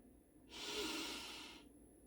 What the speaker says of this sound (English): Me taking that beautiful deep breath,